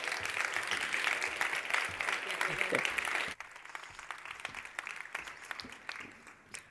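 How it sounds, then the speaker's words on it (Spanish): An audience at a health and life expectancy talk claps loudly for about three seconds; the applause then cuts off abruptly, leaving faint room noise and scattered small sounds. "Un fuerte aplauso para Lucía Martínez."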